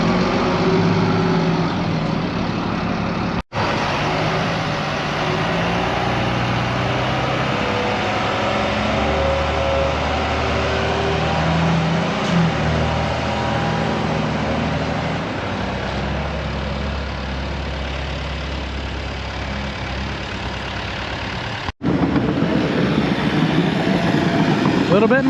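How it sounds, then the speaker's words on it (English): Diesel dump truck engine rumbling steadily at a muddy pond site, a low continuous drone close by with slight rises in revs as it moves, broken by two abrupt cuts, with faint talk over it. "All right, got the dump truck moved."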